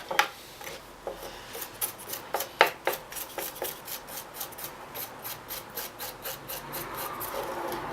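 Coal dust rubbed into timber grain on a model, a dry scratchy rasping repeated in quick uneven strokes, close and fairly quiet, alone with no voices.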